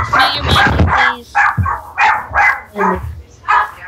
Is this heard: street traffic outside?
no